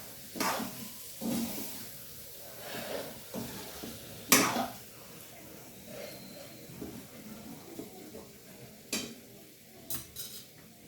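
Small potatoes being stirred in spiced oil in a pan for Gujarati garlic potatoes: intermittent close scrapes and clinks of a utensil against the pan, with one sharp metallic clatter partway through and quieter scraping around it.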